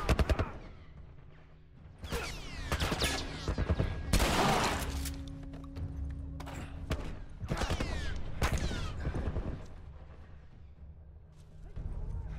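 A military crew fires on the player in The Last of Us Part II: loud, dense volleys of gunfire in repeated bursts with cracks and shattering impacts and brief lulls in between.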